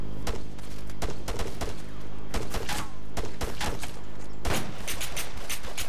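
Gunfire in the Arma 3 video game, loud, dense volleys of rapid shots in repeated bursts across the whole stretch, with occasional brief voices under the shooting.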